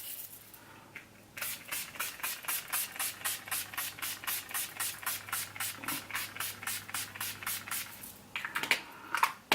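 Urban Decay All Nighter setting spray misted onto a face: about twenty quick pump spritzes in an even, rhythmic burst, soft and close in a quiet room.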